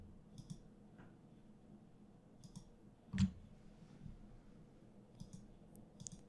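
Computer mouse clicking while selecting several text boxes in Articulate Storyline 3: scattered soft clicks with one louder, closer click in the middle, over a quiet room hum.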